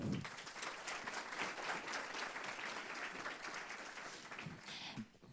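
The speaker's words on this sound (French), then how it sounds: "Je vous demande de l'applaudir bien fort." Audience applause fills a hall during a talk on the asbestos affair, steady and dense clapping from a seated crowd for about five seconds before tapering off at the end, a little voice faintly mixed in.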